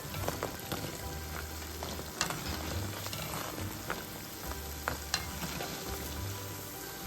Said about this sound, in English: fry the luqaimat until golden color